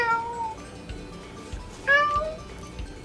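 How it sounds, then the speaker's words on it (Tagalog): A cat meows twice, a steady drawn-out call followed by a louder, rising meow, heard close and clear over a faint low background with soft thumps. "Ang kaya niya lang sabihin ay meow meow pa rin."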